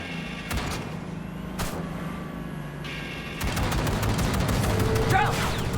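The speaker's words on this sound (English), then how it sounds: "Explosion noise." Explosions and gunfire in Cyberpunk 2077 gameplay, a few sharp blasts followed by a dense, loud barrage of booms and crackling shots building over the last few seconds.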